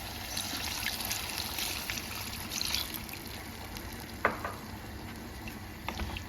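Boiled meat broth poured into a pan of fried meat and tomato, giving a steady sizzle and faint trickling liquid, with a sharp clink at about four seconds and a few lighter knocks later, no talking.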